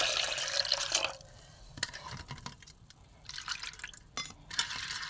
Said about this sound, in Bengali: প্রথমে ডালটা বন্ধুরা ধুয়ে নেবো ভালো করে।